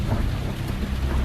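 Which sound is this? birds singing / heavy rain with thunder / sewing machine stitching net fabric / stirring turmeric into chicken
heavy rain with thunder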